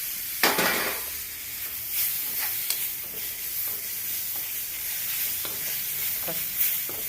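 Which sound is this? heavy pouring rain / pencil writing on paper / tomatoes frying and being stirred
tomatoes frying and being stirred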